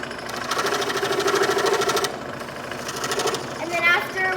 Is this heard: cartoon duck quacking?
no